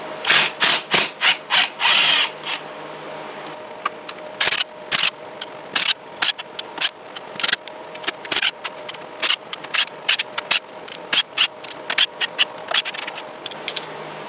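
Bolts on a lawn mower are broken loose with a power tool, giving loud, close bursts of buzzing and grinding that repeat in short, uneven pulses, some held longer, with brief gaps between.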